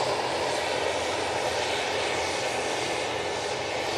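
A large Etihad airliner climbing away at Manchester Airport with gear up, its engines a loud, continuous broadband roar that stays steady and fills the whole moment.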